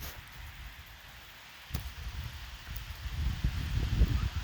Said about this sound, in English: I thought it was somebody sloshing down the street, but that's just the wind